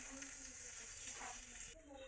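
Luchi, a puffed Bengali flatbread, fries in hot oil with a steady soft sizzle and crackle, faint and continuous throughout, close to the pan.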